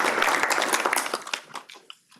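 Applause from an audience at a panel conversation on funding sustainable growth in Africa, a short burst of dense clapping that thins out and fades toward the end.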